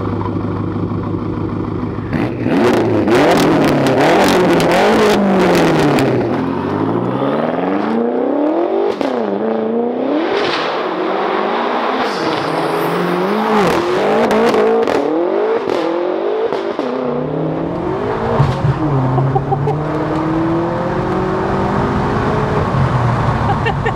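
A fully forged BMW M6 making 900 bhp on stock turbos starts off on a drive, its engine loud and close as it revs and accelerates repeatedly through rising and falling sweeps, with clatter and occasional voices over it.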